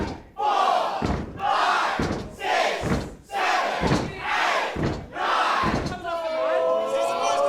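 A wrestling-event crowd chants a ten count in unison, loud rhythmic shouted numbers with short pauses between each, echoing through an arena and ending with a drawn-out cheer.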